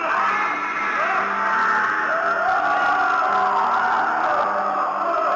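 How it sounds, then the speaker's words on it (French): A hoax 'well to hell' recording of screams of despair: a continuous, dense wash of many distant wailing, shrieking voices merged into one moaning roar, steady and unbroken throughout, with no clear individual words. "ce ne sont pas vraiment des bruits normaux, mais plus des cris de désespoir et de tristesse"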